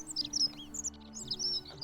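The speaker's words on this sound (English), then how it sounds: "This shrub is making the bird noise." Bird chirping from a shrub in the video game The Forgotten City, a run of short, high tweets repeating through the clip over a low ambient game hum.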